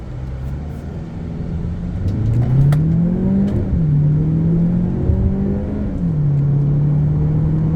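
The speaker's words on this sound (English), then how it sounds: "Let's launch it and see what it's all about." An Omoda C5 GT with a 1.6-litre turbo engine launches hard from a standstill. The engine drones and rises steadily, holding a loud tone that dips briefly at each gear change. No one speaks.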